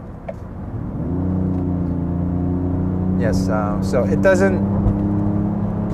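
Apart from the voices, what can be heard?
Genesis GV80 diesel SUV engine in sports mode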